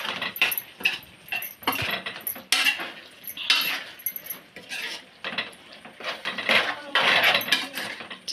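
Spoon stirring a curry in a pan after salt and chilli powder are added, with repeated scraping and clattering strokes, close and fairly loud, continuing for several seconds.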